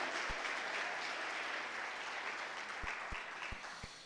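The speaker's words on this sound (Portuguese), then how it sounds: "Aplauda com alegria, com entusiasmo, aleluia!" A church congregation applauds steadily and enthusiastically, a dense wash of many hands clapping at moderate distance that tapers slightly toward the end, with a few low thumps breaking through.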